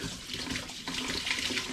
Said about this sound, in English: So I'm going to very gently pour them through the jug.